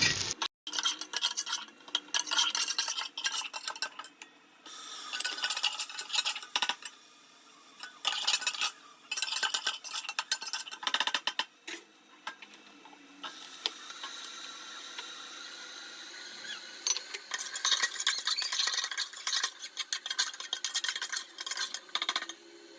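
Onions and other tempering ingredients being sautéed for pulao in a pan, with steady scraping and stirring, clinks of a metal spoon against cookware and a continuous hiss running through.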